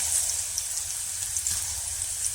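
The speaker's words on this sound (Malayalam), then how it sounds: "നമുക്ക് നല്ലോണം ചൂടായി കിടക്കുന്ന എണ്ണ ആയതുകൊണ്ട് നമുക്ക് കൂടെ തന്നെ നമുക്കിതിന്ന് കുറേശ്ശെ ഓരോന്നായിട്ട് ഇട്ട് കൊടുക്കാം." Taro slices frying in hot oil for homemade chips, a steady broadband sizzle and crackle that holds at an even level throughout with no talking.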